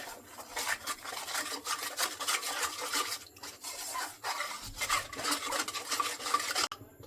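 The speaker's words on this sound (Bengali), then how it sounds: "দিয়ে দিচ্ছি জল, পাতলা একটা ব্যাটার তৈরি করে নেব।" Thin batter of flour and water being stirred briskly in a bowl for crispy okra snacks, a steady scraping, rasping swirl with brief pauses, close and clear with no talking.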